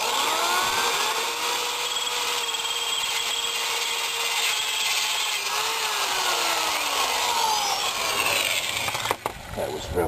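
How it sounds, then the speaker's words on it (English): A power drill bores out a hole in a metal part for a log splitter's log catcher, with a steady high-pitched whine whose pitch shifts slightly as it cuts. It runs continuously and close up, then stops abruptly near the end. "So anyway, I'm just going to drill this out."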